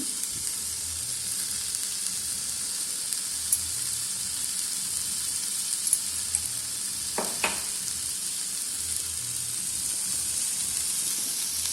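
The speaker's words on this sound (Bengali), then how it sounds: "আমি মেনলি বিনা তেলে আমি এটা সুন্দরভাবে যে নাড়াতে পারছি এবং ভাজতে পারছি" Fish curry frying with barely any oil in an Amway Queen pan, a steady close sizzle running throughout, with a couple of sharp scraping stir strokes near the end and no talking.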